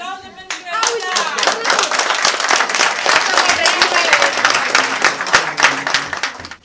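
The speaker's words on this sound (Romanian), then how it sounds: "Aplauze pentru ea!" A crowd claps enthusiastically, a dense and steady burst of applause that holds strong throughout with no pauses.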